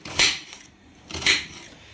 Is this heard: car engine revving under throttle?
no